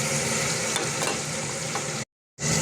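Onions, tomato and garlic sizzle and fry in a pan while being stirred for an Arabian chicken mashiluq, a steady close crackle that cuts out briefly near the end before resuming.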